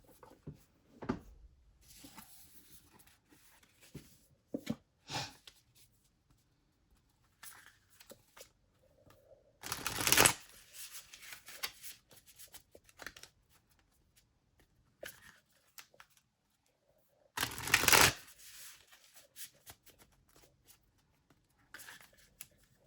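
Bursts of riffled tarot card shuffling recur every few seconds, crisp and close, with softer handling and tapping sounds between them and no talking.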